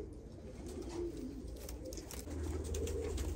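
Van pigeons, a matched breeding pair, coo softly with scattered wing flaps and rustling, a steady close-up bird bed with no talking.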